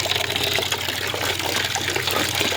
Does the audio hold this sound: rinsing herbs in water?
yes